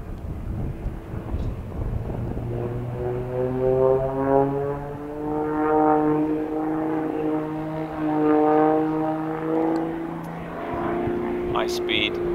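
A propeller aerobatic plane flying a tight high-G turn during a freestyle competition routine, its engine a steady droning roar that rises and shifts in pitch as the aircraft banks, with wind noise and a voice talking over it.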